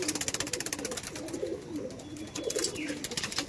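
A loft of domestic pigeons, old-generation breeding birds, coos in repeated low rolling phrases, several birds overlapping close by, with a sharper chirp near the end and a faint hum beneath.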